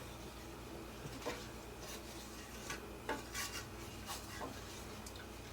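A spoon slowly stirs spices into a pot of pumpkin soup on the stove, making faint, soft scraping and rubbing strokes at irregular intervals over low background hum.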